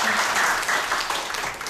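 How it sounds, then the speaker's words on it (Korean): Short applause from the audience at a policy forum on economic democratization, a close, moderately loud patter of clapping that fades slightly after under two seconds. "다시 한번 저희들이 더 열심히 하라고 박수 한번 보내드릴까요?"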